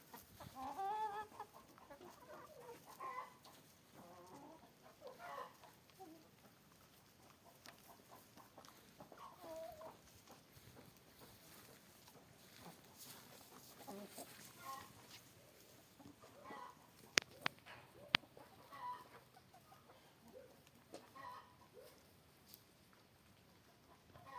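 Chickens range freely outdoors on a December winter day, clucking softly and intermittently at a moderate distance, with a few sharper calls over steady outdoor background noise.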